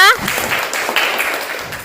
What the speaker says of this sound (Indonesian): Kasih tepuk tangan dulu untuk Ana ya.